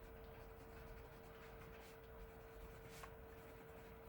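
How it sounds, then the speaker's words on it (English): A swatch label being written by hand beside watercolor paint swatches, soft scratchy pen strokes that come in short faint bursts, very quiet and close against a low steady hum. "I will write that it's Nightfall"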